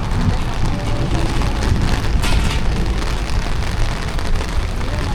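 Heavy rain pours over an outdoor Ramadan buka puasa food bazaar at Stadium Merdeka, a loud, dense and constant hiss of downpour with no let-up.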